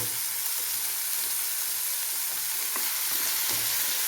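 Tomatoes and onion sauté in a pan for a Kerala mango fish curry, giving a close, continuous sizzle with faint stirring scrapes and no talk.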